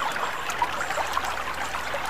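Water flows at a waterfall in a soft, steady wash with a light trickling texture, fairly faint and continuous with no voices.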